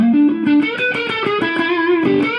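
A short distorted electric guitar lick built on the sixth, a few bent notes played melodically and loud, alone with no talking.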